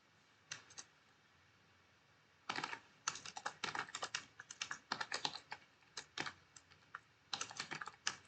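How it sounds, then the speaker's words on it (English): Typing on a computer keyboard in a quiet room: irregular bursts of quick, close key clicks separated by short pauses, faint and crisp, with no talking. "my typing speed is not so slow"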